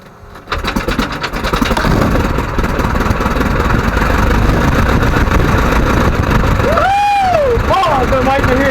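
A 1946 Piper J-3 Cub airplane engine catches and runs steadily and loudly at close range, with a brief whistling or squealing sweep near the end and voices in the background.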